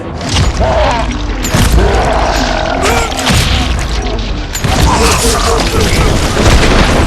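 Gunfire and booming blasts from the Western shooter Call of Juarez: Gunslinger fill a loud, dense battle scene, with shots and heavy impacts layered under shouting voices.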